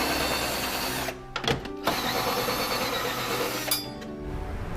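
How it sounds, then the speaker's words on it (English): Power socket tool loosening nuts on a mobility scooter, a steady close buzzing whir broken by short metallic clinks and brief pauses. "I could use my socket to release those nuts."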